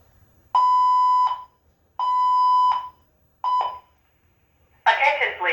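A school fire alarm sounds in three long electronic tone blasts with short gaps, loud and close, followed by a burst of noisier sound at the end.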